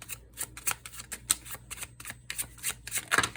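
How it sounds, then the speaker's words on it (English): A deck of tarot cards being pulled out and shuffled by hand, with a quick run of close, crisp papery riffles and flicks and no voices. "Let me pull these cards out."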